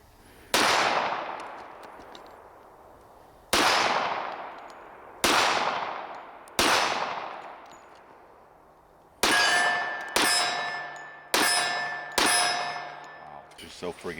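A Dan Wesson Heritage 1911 pistol with a rusty hammer finish fires several sharp, loud shots with ringing decay, first spaced a few seconds apart and then in a quicker string of four near the end.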